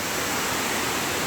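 Huge half-mile-high waterfall in a cloud forest, a steady, dense roar of falling water filling the air evenly, close and continuous with no voices.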